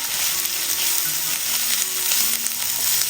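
One large finely chopped onion frying in a pan makes a dense, loud, continuous sizzle with faint stirring sounds, close up and without speech.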